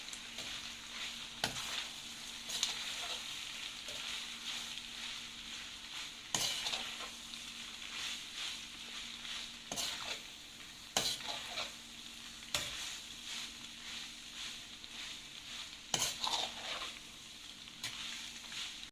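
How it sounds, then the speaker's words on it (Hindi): Fusilli pasta being stirred after ketchup goes in, a steady sizzling hiss broken by several sharp utensil scrapes and clicks against the pan, fairly quiet and without talk. "अब हम इसमें डालेंगे केचप, और इसके बाद हम इसको मिक्स करेंगे"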